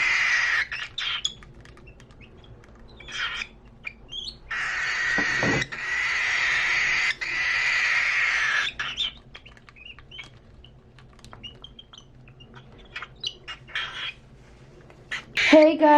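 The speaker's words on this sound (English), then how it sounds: "now I'm gonna feed my bird, and it's screaming very loud." A hungry juvenile cockatiel screams loudly in repeated bursts before feeding, with short pauses between calls, some handling clicks and a brief louder squawk at the end.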